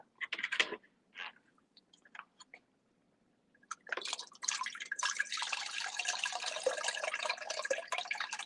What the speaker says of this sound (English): All right, I think we're going to add this water